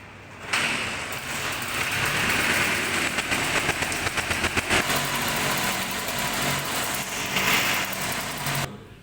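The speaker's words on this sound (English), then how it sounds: "This is electrically loaded engine." An electrically loaded engine runs on a laboratory test bench with a steady mechanical drone and a high whine, starting abruptly and holding loud and constant before cutting off, with no speech.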